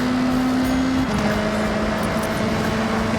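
A rally car engine in Forza Horizon drones steadily at a sustained pitch that drops once partway through, a constant loud motor hum with no talk.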